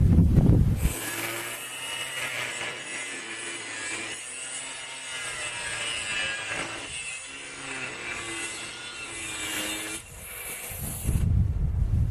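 Power tool cutting through a metal bicycle part before welding, a steady harsh grinding rasp that runs continuously for about ten seconds, close and loud, then stops.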